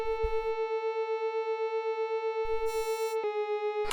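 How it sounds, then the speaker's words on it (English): A synthesizer plays a sine wave and a detuned square wave together, a sustained pure tone with a soft wobbling beat, brief low thumps near the start and end and a pitch shift late in the phrase. "you can see I've got a sine wave and a square detuned"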